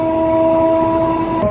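A train pulls out of Uppugunduru railway station with a steady, loud mechanical hum, strong sustained tones running throughout and a brief burst near the end.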